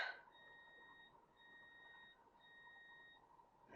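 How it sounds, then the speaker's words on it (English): Faint electronic beeping from a coffee maker, steady tones pulsing in a slow repeating pattern, quiet and alone in a hushed room. "if you heard that beeping, that was my coffee maker announcing"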